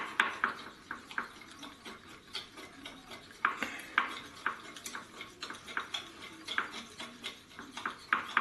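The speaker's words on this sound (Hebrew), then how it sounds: "עכשיו אנחנו מערבבים את הכל ביחד, ממזגים. אפשר לעשות את זה עם כפית" A teaspoon stirs a celery, walnut and cranberry salad in a bowl, giving a close series of soft rhythmic clinks and scrapes against the dish, with no talking.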